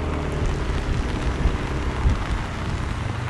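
Heavy rain during a storm while riding a Yamaha NMAX Turbo scooter uphill on a wet road, a dense, steady hiss of rainfall with low rumbling underneath, continuous and close with no talking.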